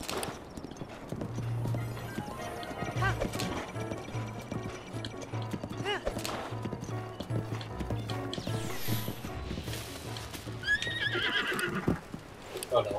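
Galloping horse hooves clip-clop steadily through Zelda: Breath of the Wild, with a neigh rising above the game's music and effects while a player talks excitedly over it.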